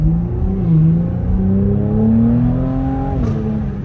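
Cadillac CT5-V engine revving with rising harmonic whine as it accelerates, loud and close from inside during a late night drive, with a brief pop near the end.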